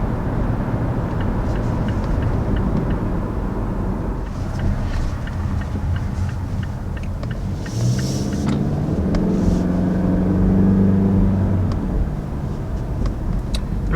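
A 2019 Mazda CX-5 Turbo accelerating hard, heard from inside the cabin as a steady engine rumble with road noise that swells and rises in pitch midway through.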